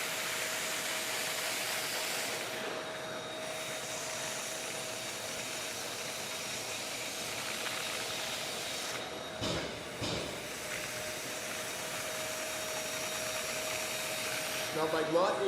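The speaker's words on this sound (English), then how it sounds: "if you can have a vacuum cleaner that can suck it up" A steady, whooshing vacuum motor drones throughout at moderate volume, with brief dips and a faint tonal hum underneath.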